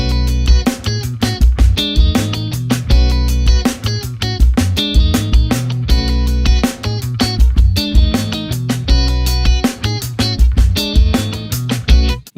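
Funk groove on electric guitar, a syncopated figure over a dominant chord with major third, played as steady tight rhythmic strums with crisp muted chops, loud and alone without talk.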